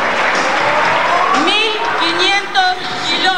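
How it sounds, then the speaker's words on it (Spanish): A crowd claps and cheers, the applause rolling steadily while a few voices call out over it. "el fuerte aplauso"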